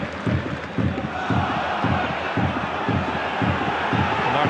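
A home football crowd at a Scottish league match, Kilmarnock against Celtic, keeps up a loud, steady roar of annoyed shouting and jeering with rhythmic pulses, broad and enveloping, with a faint commentary voice underneath.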